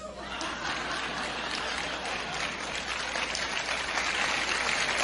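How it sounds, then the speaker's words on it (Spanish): A room full of people at a business meeting claps for the newcomers, sustained close applause with a few scattered chuckles mixed in. "Y por último le vamos a dar un aplauso a los nuevones."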